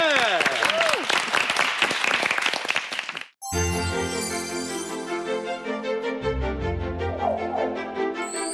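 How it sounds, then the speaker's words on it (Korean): A studio audience on a Korean health talk show applauds to welcome psychiatrist Yang Jae-jin's lecture on depression; a loud burst of clapping with a voice over it lasts about three seconds before giving way to music. "박수로 청하겠습니다."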